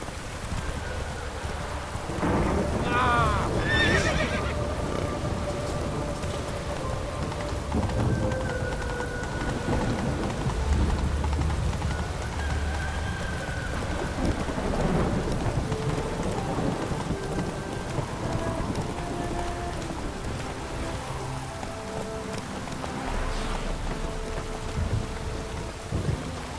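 Steady heavy rain pours throughout while low thunder rumbles and rolls in the background in The Witcher 3: Wild Hunt; no voices.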